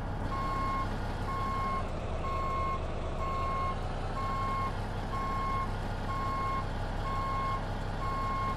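Truck reversing alarm in American Truck Simulator, a steady run of evenly spaced electronic beeps repeating over a constant low diesel engine drone, loud and close throughout.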